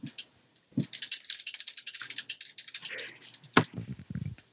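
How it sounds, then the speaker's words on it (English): Computer keyboard typing during an online card game session: irregular bursts of clattering keystrokes that come and go, fairly close, with brief voice sounds mixed in. "You guys type really loud."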